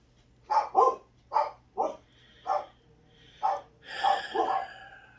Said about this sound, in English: I know my dogs are all going nuts.